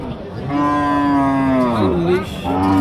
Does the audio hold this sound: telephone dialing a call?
no